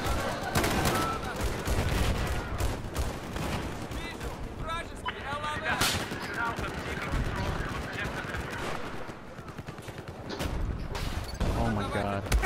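Heavy gunfire fills a military video game battle with an Apache helicopter, layered shots and bursts rattling almost without pause, loud and continuous, while a voice talks over the fighting.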